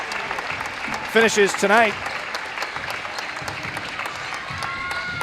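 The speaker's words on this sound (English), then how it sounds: "He gets a standing ovation here from the crowd." A crowd at a high school playoff basketball game gives a standing ovation, steady applause filling the gym while an announcer talks over it.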